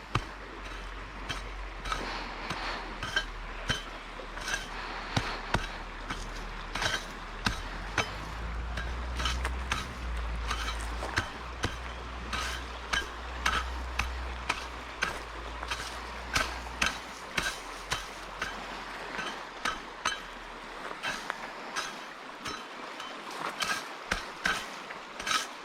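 A hand hoe scrapes and chops at nasty weeds in soil, delivering repeated sharp scraping strikes in an irregular steady rhythm, close and fairly loud.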